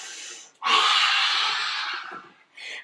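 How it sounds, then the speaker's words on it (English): During a yoga flow, one long, deep inhalation is drawn in close to the microphone, steady and breathy for well over a second, then tapers off before a shorter second breath begins. No one speaks. "Deep breath in."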